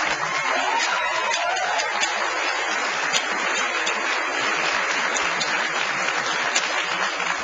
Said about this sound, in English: Don't let the applause prevent an answer.